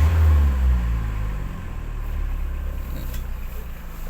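Renault Kangoo diesel engine idling while warming up, a steady low rumble close by with an even rhythm and no voices.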